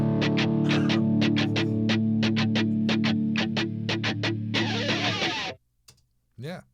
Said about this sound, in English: if we just solo the whole guitar group, sounds like this.